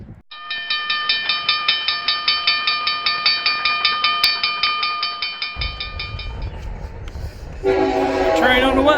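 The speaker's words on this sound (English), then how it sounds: "I think we might have a train coming, guys. Maybe. I hear horns." A Union Pacific train sounds its horn as it approaches the old C-E-I depot in Clinton, Indiana, at dusk, with loud, sustained pulsing blasts followed by a lower rolling rumble and fading tones.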